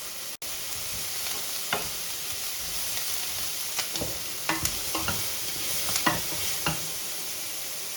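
Onions sizzle and crackle in a pan, a steady fry punctuated by scraping stirs and clinks, close and fairly quiet.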